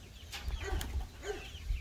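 A chicken with a broken leg clucks softly nearby, a few short, low clucks spaced irregularly over faint background noise, with no one speaking.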